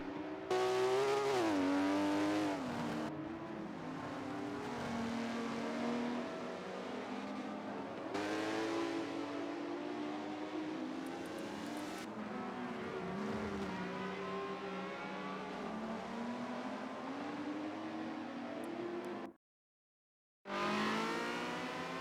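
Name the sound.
Ferrari 360 Challenge Stradale engine, video game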